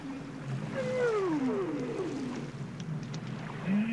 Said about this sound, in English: listening to the calls of the whales reverberating through a canyon below.